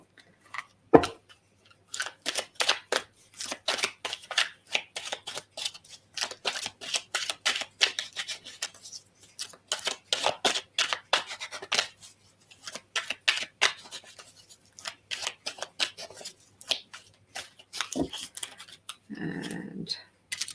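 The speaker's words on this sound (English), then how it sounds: "I will draw some cards for you as well" Cards being shuffled, drawn and handled during a reading, with rapid riffling flicks and snaps that come in bursts and pauses, close and fairly quiet, with a brief soft thud near the end.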